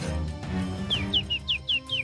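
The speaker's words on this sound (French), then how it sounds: "Écoutez, le chant d'un rossignol." A nightingale sings a short series of six rising-falling whistled notes in quick rhythm over a low background hum.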